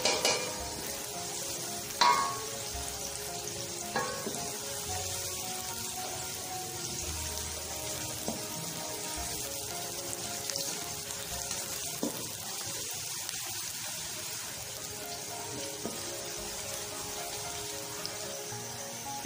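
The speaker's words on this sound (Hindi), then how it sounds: "इसे हम अच्छे से फ्राई करेंगे ब्राउन होने तक।" Onions fry until brown for an aloo methi sabzi, a steady close hiss and crackle running throughout, with occasional spoon scrapes and knocks against the pan and no talking.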